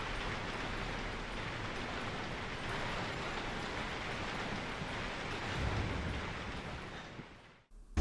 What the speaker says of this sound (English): listen to this ambient rain though